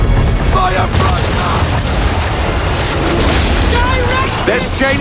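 Ship cannons fire a broadside in Assassin's Creed 3, a loud rolling series of booming blasts layered over crashing sea and battle noise, with shouted voices mixed in.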